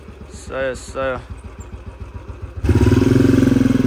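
A motorcycle engine putters and then revs up to a steady, throbbing roar nearby, with a couple of short voiced sounds near the start.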